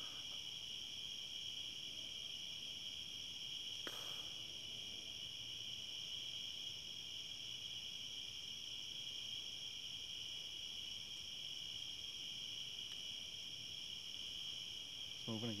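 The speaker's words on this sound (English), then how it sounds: "I wish the crickets weren't so loud." Crickets chirp loudly at night in an outdoor woodland setting, a dense steady high-pitched drone filling the whole stretch, with a brief knock or thump near the start and faint low rustling beneath.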